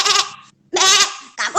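A goat bleats twice in long, loud, wavering calls with a short gap between, then gives a brief third bleat, all close and alone with no talk.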